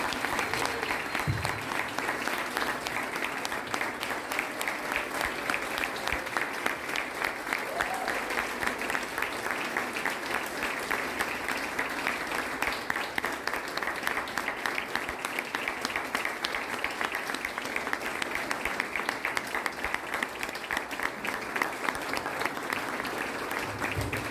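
Sustained applause from a large crowd, steady and loud, continuing without a break for the whole stretch.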